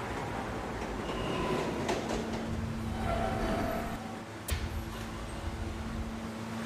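A subway train rumbles along with a continuous low roar, a faint steady hum and occasional clicks and squeaks of wheels on rails.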